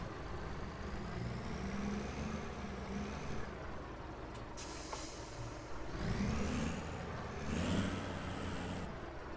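Farm vehicle in the Landwirtschafts-Simulator 17 farming game rolling forward a short way: a low, steady engine rumble with brief rises in revs and a sharp hissing burst partway through.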